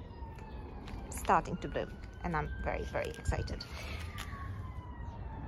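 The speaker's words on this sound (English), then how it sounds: "apologies about the sirens in the background." A wailing emergency siren on a London street, its pitch sweeping slowly in the distance beneath someone talking nearby.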